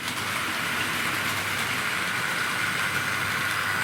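A Tri-ang Battle of Britain class model steam locomotive pulls away along track on a Super 4 layout, giving a steady, continuous whirring rumble that stays even and unbroken throughout.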